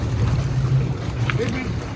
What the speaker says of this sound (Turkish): Evet teknemiz bu. Adalara bu tekneyle gidiyoruz.